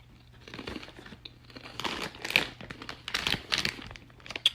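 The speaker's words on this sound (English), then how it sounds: "Sitting here trying my new vegan snacks." Vegan pea crisps crunched and crinkled up close, giving irregular bursts of crisp crackling that stand out against a low background hum, with no talking.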